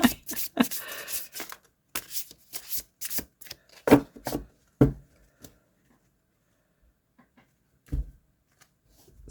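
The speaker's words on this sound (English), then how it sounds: "Now let's try a riffle." A deck of tarot cards is riffle shuffled close up in a series of quick, crisp bursts, followed by a quiet stretch and one more short riffle near the end.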